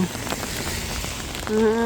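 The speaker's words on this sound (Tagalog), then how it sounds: "Kaya, malakas po talaga yung ulan po." Steady, dense hiss of heavy rain pouring down, heard just after stepping off a bus, with a brief tonal sound near the end.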